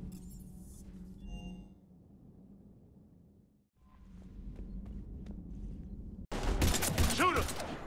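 Gunfire breaks out in the shooter game Mass Effect 3: a loud, dense burst of shots erupts suddenly after a stretch of low, muffled ambience and faint footsteps.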